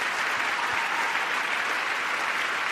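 A standing audience at a joint address to Congress applauds, a broad, loud wash of clapping from a large crowd that holds steady with no break for nearly three seconds.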